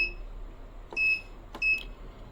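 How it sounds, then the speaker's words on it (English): A heating-cooling thermal block shaker, model DBI TCS10, gives two short, clear electronic beeps about half a second apart while saving its settings, close and alone over a low steady hum. "you should hear the beep,"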